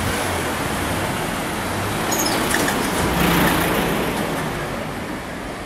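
Cars driving through the narrow residential streets of Kugayama, a continuous broadband roar of engines and tires that swells as a vehicle passes close around the middle, then eases off.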